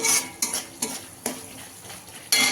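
A spoon scrapes and stirs through mustard pabda fish curry in a pan over low heat as the oil separates, making several short, distinct scraping strokes with a faint sizzle between them.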